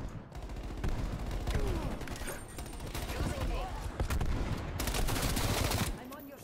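Rapid automatic gunfire in Call of Duty: Black Ops Cold War, dense overlapping bursts of shots, loud and close, running continuously for several seconds with a voice speaking over it.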